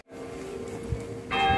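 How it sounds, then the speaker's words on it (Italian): Church bells ring from the bell tower on Marienplatz in Munich, Germany, a sustained, resonant metallic ringing that carries through the whole stretch. A fresh, brighter strike swells in near the end, with no talking over it. "Ogni volta che devo parlare io qui parte l'ambolo con questi campanelli, eh, vedete? Campanile dietro di me."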